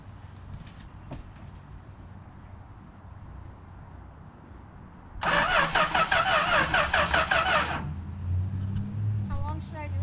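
A 1962 Valiant Signet 200 barn find with a long-idle engine cranks loudly for a few seconds and then drops away, with scattered voices and ambient noise before and after.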